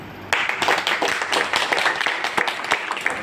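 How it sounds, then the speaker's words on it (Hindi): Audience at a motivational speech clapping together, a burst of dense applause starting abruptly and continuing steadily close by without speech. "जरा जोर से ताली बजा दो अपने लिए।"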